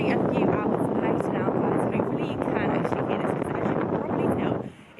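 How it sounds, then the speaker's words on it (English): Strong wind buffets a microphone outdoors in Iceland, a constant loud rumbling roar that drops away sharply near the end, with a voice talking underneath. "little bit windy right now"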